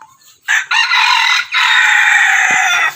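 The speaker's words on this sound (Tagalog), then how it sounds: "Yan yung tilaok." A labuyo jungle fowl rooster gives a loud, close crow in two bursts, a short opening call and then one long drawn-out cock-a-doodle-doo, with no talking.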